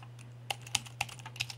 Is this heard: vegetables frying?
no